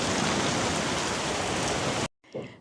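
Heavy rain pours in a dense, steady hiss, loud and close, then cuts off abruptly into a brief quieter stretch.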